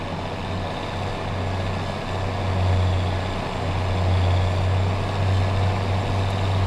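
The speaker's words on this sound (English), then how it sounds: "So this is a nice sounding tractor." Steady low diesel drone of a farm tractor engine in Farming Simulator 25, running continuously and fairly close, swelling slightly louder partway through with no talk over it.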